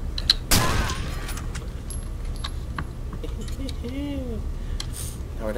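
One loud, sharp gunshot cracks from a firearm in the horror video game Condemned: Criminal Origins, then fades over a steady low game ambience with a few faint clicks and a short warbling tone.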